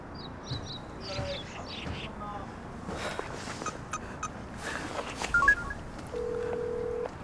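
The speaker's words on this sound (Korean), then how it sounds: "개인아 전화 받아라" Telephone call tones in a Korean TV drama scene: a scatter of short dialing beeps, then a steady sustained tone near the end, with faint background sounds.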